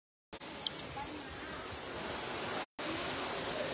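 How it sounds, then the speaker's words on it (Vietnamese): The Bản Khiếng waterfall in Lộc Bình pours in a steady broadband rush heard at a moderate distance, briefly cut out twice by gaps in the recording. "Thác này rất là đẹp."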